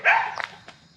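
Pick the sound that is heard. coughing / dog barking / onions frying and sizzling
dog barking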